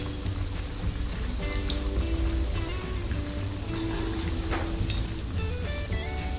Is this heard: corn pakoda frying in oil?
yes